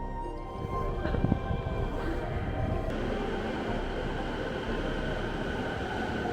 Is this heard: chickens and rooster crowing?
no